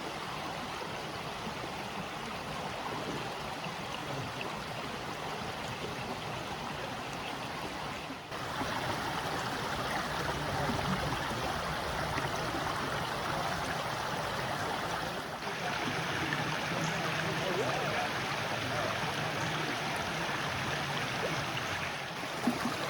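Justice Creek on the Appalachian Trail flows steadily, a continuous broad rushing and babbling of water that stays even throughout at close range, with no voices.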